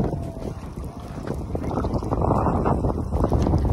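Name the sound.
heavy rain and wind during motorcycle ride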